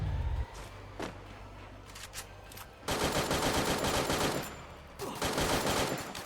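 Gunfire in the Free Fire battle royale mobile game, with bursts of rapid automatic shots in two long loud stretches separated by quieter gaps, close and dense.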